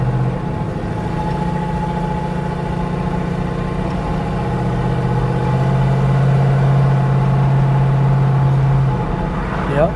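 A 1969 Chevrolet C10 pickup with a newly installed transmission runs steadily while driving in town, its engine droning with a rising whine as it shifts through gears, close and continuous under faint background noise.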